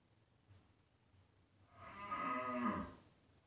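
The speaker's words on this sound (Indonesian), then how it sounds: "Itu sapi dah itu." A single cow moos once, a drawn-out low call of about a second that swells and fades, heard fairly close over quiet background noise with no talking.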